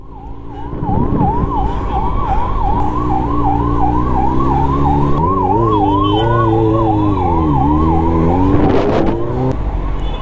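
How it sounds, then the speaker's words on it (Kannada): An ambulance siren wails in a loud, steady up-and-down cycle close by, heading through busy Bengaluru traffic, with engine rumble underneath and no voices. "ಸರ್ ಹಿಂದೆ ಆಂಬುಲೆನ್ಸ್ ಇದೆ ಅಂತ ರಾಂಗ್ ವ್ಯಾಲಿ ಬರ್ತಾ ಇದೀವಿ ನಿಮಗೆ ಹೇಳಕ್ಕೆ."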